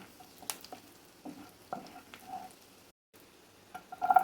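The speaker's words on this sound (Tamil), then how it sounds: "கருவேப்பிலை ஃப்ரை ஆகணும்." Curry leaves frying in a pan for a toddler pumpkin soup, giving a soft crackling sizzle with light stirring scrapes, quiet and close, with a brief gap and a louder spitting burst near the end.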